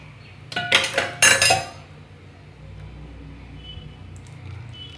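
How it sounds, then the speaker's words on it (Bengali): A metal ladle clinks against a cooking pot while milk goes in for a Bengali malai cake: two bright bursts of clinking near the start, then a quiet kitchen background. "এবার এই হাতা করে করে এই দুধটা দিয়ে দেবো।"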